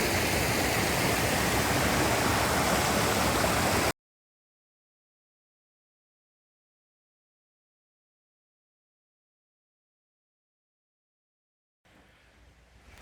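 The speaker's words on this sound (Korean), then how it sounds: "물소리 들리시죠?" A mountain valley stream in a clean Chungcheongbuk-do gorge rushes loudly and steadily for about four seconds, then cuts to silence before the water returns faintly at the end.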